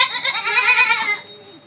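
Goats on a goat farm bleat in a loud, close, wavering cry lasting about a second, which then fades into quieter background sound.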